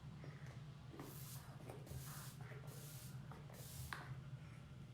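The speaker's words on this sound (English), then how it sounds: "you are just gonna go in with your setting spray" A mattifying makeup setting spray mists onto a face in a few short, quiet hissing bursts, close up and with no talking.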